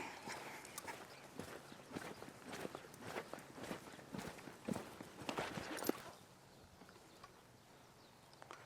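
A horse walks at a steady clip-clop during barrel racing training, its hoofbeats close and fairly loud over dirt for several seconds before fading into quieter ambient sound.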